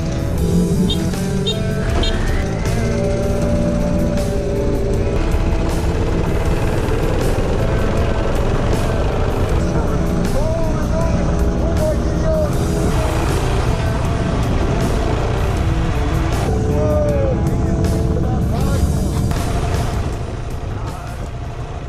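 Loud, continuous engine roar of a 50cc scooter and a 125cc go-kart racing side by side from a rolling start at 20 km/h, revving steadily and varying in pitch as they accelerate.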